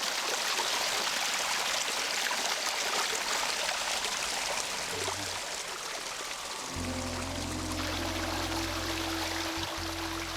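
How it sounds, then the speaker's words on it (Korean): A cool stream runs through a small wooded valley behind a rural village schoolhouse, its steady rushing flow close and continuous; partway through, a low steady hum joins beneath the water. "시원한 계곡물이 더위를 씻어주고 맑은 물소리에 마음까지 깨끗해집니다"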